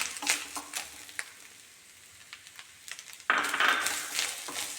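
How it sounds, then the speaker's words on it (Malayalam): Grated coconut fries in hot oil, making a soft crackling sizzle with scattered clinks and scrapes of a spoon against the pan, then a sudden louder, brighter burst of sizzling near the end, no voices. "നമുക്കിതിന് തേങ്ങ ഒന്ന് വറുത്തെടുക്കാം"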